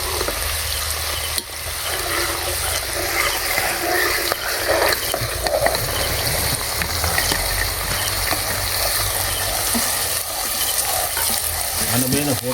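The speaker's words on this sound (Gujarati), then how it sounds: "હવે આપણે ડુંગળી નાખશું." Chopped onions sizzle loudly in a frying pan already holding peas, a dense continuous frying crackle with stirring scrapes and clatter throughout, close and unbroken.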